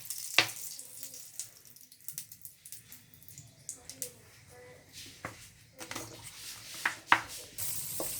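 Cooking oil sizzles and crackles in a pan on an electric cooker, a soft steady frying hiss dotted with sharp pops and utensil clicks, with a voice speaking now and then over it.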